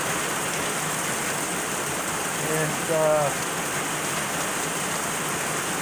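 Steady rain pours down outdoors at a shooting range, a dense even hiss filling the whole clip with a brief louder patch near the middle where a voice speaks a single word.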